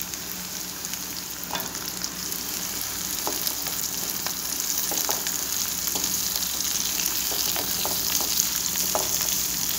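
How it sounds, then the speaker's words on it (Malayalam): Shallots frying in hot oil with curry leaves and chillies, a steady close sizzle with scattered crackles and pops, continuous and without talk. "അതിലേക്ക് ചെറിയുള്ളി ഇട്ട് കൊടുക്കും."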